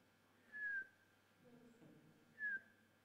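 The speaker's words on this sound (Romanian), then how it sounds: "Era wow, pot să fluier." Two short whistled tones from a person, each a brief rising-then-steady note about two seconds apart, with a faint low murmur between them.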